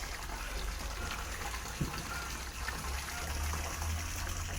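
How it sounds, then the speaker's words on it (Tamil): Water poured onto garden plants, with eggplant seedlings set out in a backyard bed, gives a steady, continuous rushing splash that runs unbroken from start to finish, fairly close and with no voices. "தண்ணி ஊற்றுறாங்க செடிகளுக்கு."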